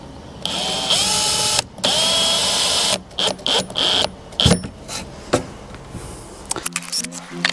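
A cordless drill drives a screw into a shelf built into a fireplace recess, with several bursts of whirring motor, short stop-start pulses, then a few clicks and knocks nearby.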